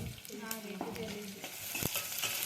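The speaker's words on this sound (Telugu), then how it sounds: "చికెన్ని ఆనియన్స్ వేసి ఫ్రై చేసింది." Chicken with onions frying in oil in a pan, a steady close sizzle broken by sharp scraping stirs and clatters, with no talk over it.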